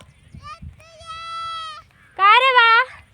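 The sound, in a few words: goats bleating while grazing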